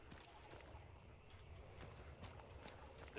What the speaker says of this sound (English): I hear a very large horse.